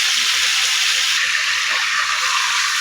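Chicken inasal marinade is poured into a hot pan of fried chicken, giving a steady, loud sizzling hiss that runs without a break from start to finish, with no talk.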